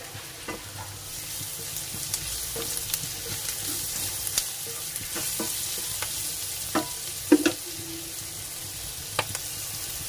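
Chopped onion fries with salt in a pan for a cheese masala dosa filling, a constant close sizzle broken by occasional clicks and scrapes of stirring.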